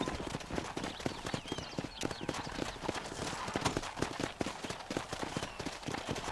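Horse hooves clip-clop in the Western video game Red Dead Redemption, a quick, steady trotting rhythm close by that continues through the clip over faint background ambience.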